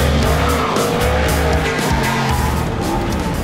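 An Audi R8 Spider sports car corners hard on a circuit, its engine roaring loud and close throughout with a steady high-revving drone and tyres scrubbing under load.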